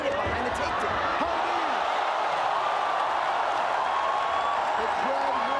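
A crowd at a combat-sports fight roars loudly and continuously, a dense wash of cheering and shouting filling the space with no pauses.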